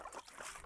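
Water runs from a VivoBlu filter system through a hose into a container of nearly 10 litres, a close, steady splashing trickle with no voices.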